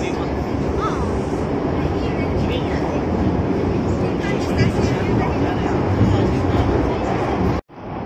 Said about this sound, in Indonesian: ini kami naik kereta nih ya di Beijing, Cina